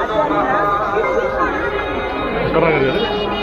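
Many people talk at once at the Anganewadi Bharadi temple fair, forming a constant, fairly loud hubbub of mixed voices that surrounds the listener without pause.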